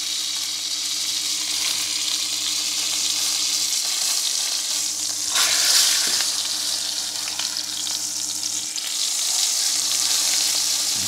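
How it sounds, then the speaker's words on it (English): A big piece of steak fat sears against a hot pan, a loud continuous close sizzle with a brief clatter midway and a low steady hum beneath, no talking. "Hit that big piece of fat on the back."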